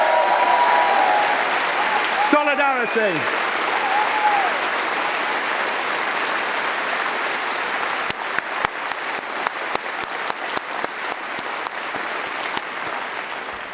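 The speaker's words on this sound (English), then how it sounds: "Conference, let's give them a round of applause." A Labour Party conference audience breaks into sustained applause, a broad wash of many hands filling the hall, with a voice calling out and a few sharp, closer claps standing out toward the end.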